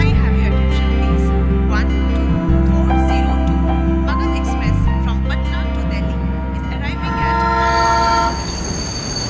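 A train pulling into a railway station, a loud continuous low rumble with a sustained horn blast, dipping briefly twice and easing toward the end as screeching hiss rises, with distant voices in the background.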